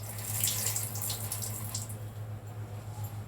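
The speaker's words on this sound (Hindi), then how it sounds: "ज़रा पानी निकाल लूँगी खंगाल को।" Tap water runs steadily into a kitchen sink as water is drained off and rinsed while milk boils for a festive sweet dish, a continuous close splashing hiss with a low hum beneath and no talk.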